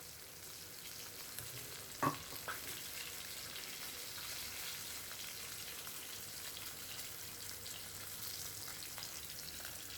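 Stuffed pomfret fish frying gently on low heat in a pan, a soft continuous sizzle with a sharp click and a few faint pops early on, no voices.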